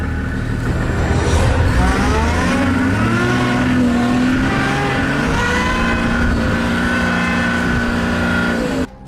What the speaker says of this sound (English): He floors it in reverse and gets away from the animal.